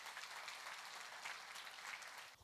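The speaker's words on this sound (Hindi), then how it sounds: "तो भारत की जनता के लिए एक बार जोरदार तालियां हो जाए" An audience at a televised Indian political debate claps steadily, a dense wash of applause holding even and fairly distant for a couple of seconds before it cuts off.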